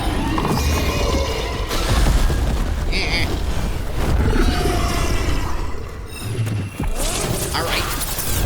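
A thrown bomb bursts in Dragon Age: The Veilguard, loud booming blasts and crashing impacts among dense, chaotic combat noise, with talk mixed in.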